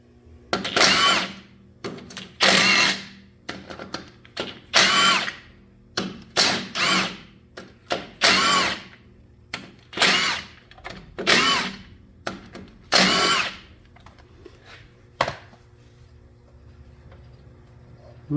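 A power tool removes the cylinder head bolts on a rare 1973 AMF garden tractor in a long run of short, loud, close bursts, with brief gaps and rattles between each one.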